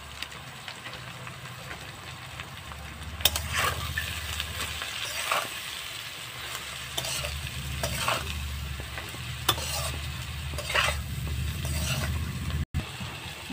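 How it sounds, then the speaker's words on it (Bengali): Spice masala being stirred and sautéed with eggplant in a pan for a Bengali puti fish chorchori, with steady frying sizzle and repeated scraping strokes of a spoon against the pan. "মশলাটা কষানো হয়েছে বেগুনের সাথে।"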